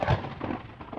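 A deep rumble of synthesizer thunder sample that rolls and swells unevenly, with a crackling edge over a low, steady roar.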